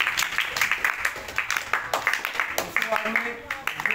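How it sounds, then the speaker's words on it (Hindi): Students in a tuition classroom clap for a classmate's full-marks weekly test score, a quick rhythmic round of close hand claps that carries on for several seconds under a teacher's voice. "नीतू सैनी, नीतू सैनी जोरदार ताली दस से दस नंबर आए।"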